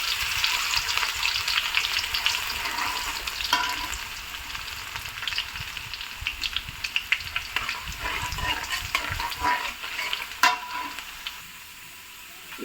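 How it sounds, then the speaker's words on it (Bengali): Ginger and spices frying in hot oil for a garlic pickle, a steady close sizzle with crackling pops and occasional stirring scrapes throughout. "আদাটা একটু লাল লাল করে ভেজে নেব"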